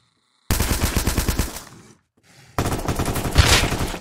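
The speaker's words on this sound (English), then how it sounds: "I hear shots. They're very close." Rapid automatic gunfire in the Roblox game Apocalypse Rising 2, two loud close bursts of tightly spaced shots separated by a brief quiet gap.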